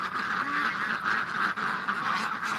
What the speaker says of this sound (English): He's herding the ducks in the pen.